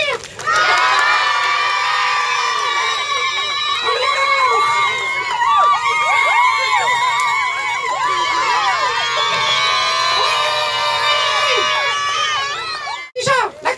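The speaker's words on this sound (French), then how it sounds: "Oui, on te l'applaudit." A loud crowd of high school students cheering, shouting and clapping together indoors, a dense, sustained roar of young voices and whoops that carries on for over twelve seconds before cutting off.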